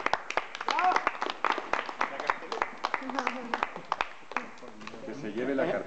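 An audience at a cultural event gives scattered, moderately distant applause, individual hand claps standing out over an ongoing murmur of voices and talk.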